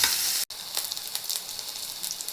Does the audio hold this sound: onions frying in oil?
yes